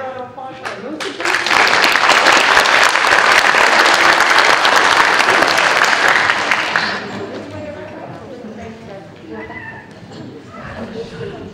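A crowd claps for students at a sixth-grade academic honors ceremony in a middle school, loud sustained applause filling the first several seconds before fading into scattered claps and a quieter room with faint voices.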